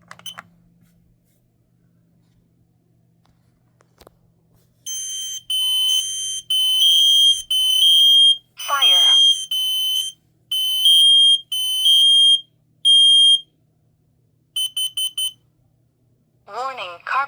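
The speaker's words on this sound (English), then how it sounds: "last alarm I gotta test is the Kidde I-12010 SCO" Kidde I-12010 SCO combined smoke and carbon monoxide alarm sounding during a system test: after a quiet stretch with faint handling noise, loud shrill beeps come in repeated groups, broken by short bursts of a spoken voice message.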